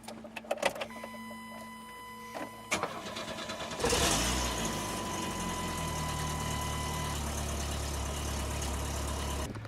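A car engine cranks after a few clicks and clunks, catches, and settles into a steady low idle that runs on evenly, fairly quiet with no voices.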